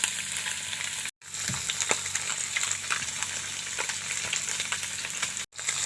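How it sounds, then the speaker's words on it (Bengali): Fish sizzles in a frying pan in a home kitchen, a steady close hiss with scattered pops and crackles and two brief cuts in the sound. "এই যে মাছ ভাজা হচ্ছে।"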